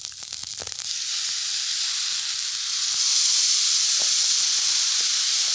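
Soy sauce hitting chicken fried rice on a Blackstone griddle sets off a loud, steady sizzle and hiss that begins after a brief clatter and holds evenly to the end, with faint scraping taps.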